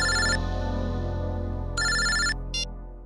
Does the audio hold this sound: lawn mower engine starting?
no